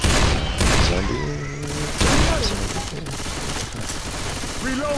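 Rapid gunfire from Left 4 Dead 2 gameplay, several sharp bursts of shots cracking over a busy game soundtrack, with a voice and in-game sounds mixed in.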